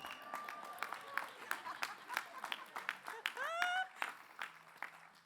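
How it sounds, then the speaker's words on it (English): Scattered clapping rises from a commencement audience at Agnes Scott College, uneven sharp claps mixed with whoops and cheering voices, moderately faint. "I want you to, yes, you clap for noisy."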